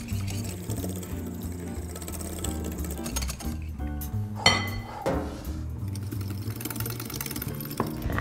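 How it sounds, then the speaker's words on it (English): Aioli is whisked in a bowl, giving fast, rhythmic metal clinking and tapping close up, steady throughout with a brief louder clatter midway. Busy kitchen sounds sit underneath, and no one speaks. "I mean like literally a drop. Whoop. And whisk."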